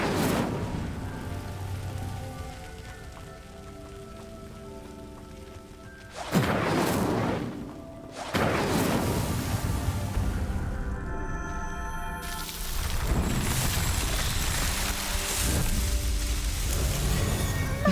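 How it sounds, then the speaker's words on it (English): A fire spell from a wizard video game sets a pyre ablaze, with repeated roaring whooshes of flame and crackling bursts over sustained tonal game music. "The flames make the pyre sink. Incendio!"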